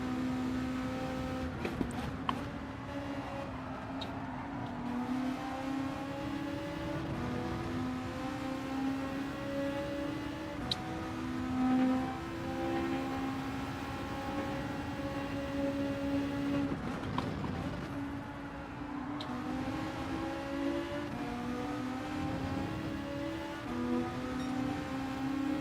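A Volkswagen Beetle engine in Gran Turismo 7 drones steadily through a race lap, with pitch rising and falling as it shifts gears, moderately loud and continuous throughout.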